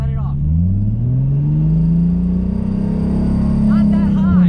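A manual drift car's engine pulls away from a stop, its loud low growl rising steadily in pitch and holding under the revs, with people talking over it near the start and end.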